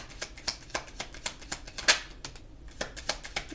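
Tarot cards shuffled and drawn by hand, a close run of quick crisp snaps and riffles in an uneven rhythm, with one sharper flick partway through and a brief pause before the final few.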